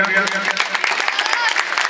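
An audience applauds children who have won prizes in costume and speech competitions, clapping steadily, with a voice audible over the applause at the start.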